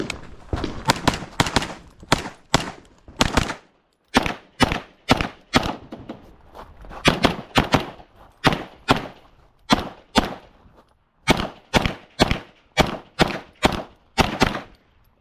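Rapid strings of sharp, loud shots ring out close by from a Springfield Kuna carbine during a shooting match, fired in quick bursts of several rounds with short pauses between strings.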